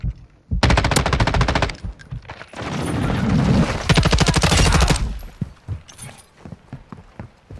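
Call of Duty: Modern Warfare II gunfire, with loud sustained automatic bursts, a short gap, then another long volley and scattered single shots trailing off, close and dominant.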